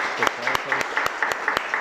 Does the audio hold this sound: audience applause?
yes